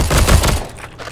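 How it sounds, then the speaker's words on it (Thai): Rapid automatic gunfire from a player's weapon in the World War II shooter game Heroes & Generals, a loud, dense burst of close shots lasting about half a second before fading into a quieter game background. "ทำไมอยู่ดีกูยิงรัวได้วะ"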